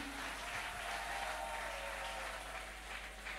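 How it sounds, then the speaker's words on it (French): A church congregation at a Christmas celebration service applauds the children, a steady, moderately faint rush of clapping over a low hum, with scattered voices underneath. "Est-ce qu'on peut applaudir pour les Codim?"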